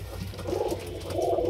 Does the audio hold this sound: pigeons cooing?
yes